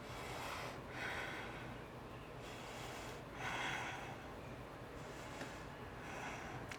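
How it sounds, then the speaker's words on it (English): Slow, audible breathing during a seated chair yoga pose, with two or three long inhales and exhales rising and falling softly over a hushed, steady background. "Breathing here."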